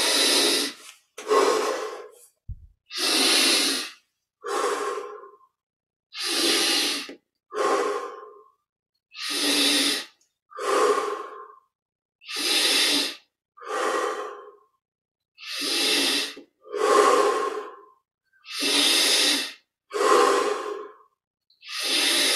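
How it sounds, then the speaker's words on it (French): Deep, slow breathing during a yoga meditation session, with about a dozen loud, close inhales and exhales in a steady rhythm separated by short silences. "Et on respire profondément."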